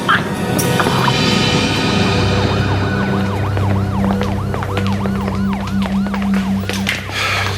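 An ambulance siren wails in rapid rising and falling sweeps, fairly close, over traffic rumble and a low steady drone.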